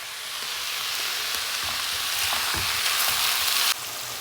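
Onion, green chili and garlic fry in a pan, a steady loud sizzle with faint crackles that holds for about four seconds and then drops off slightly near the end.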